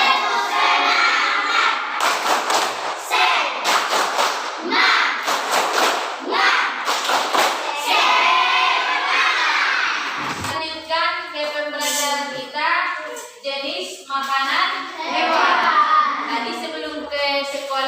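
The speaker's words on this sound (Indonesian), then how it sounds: "Kita tepuk semangat." Standing fifth-grade pupils in a classroom do a rhythmic clapping chant, loud bursts of claps and children's voices in a fast pattern, followed by clearer sung or chanted lines.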